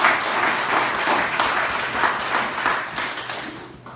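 Applause from a church congregation at a Korean merger worship service in Cheongju, a dense, even clapping that stays loud throughout and fades out at the very end.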